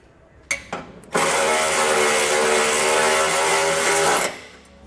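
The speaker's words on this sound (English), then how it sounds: "We can then go back and tighten these down with our 10 millimeter socket." A power tool runs a 10 millimeter socket on hitch bolts of a Draw-Tite Sportframe trailer hitch on a 2015 Honda Civic: two short clicks, then a loud, steady three-second whir that stops abruptly.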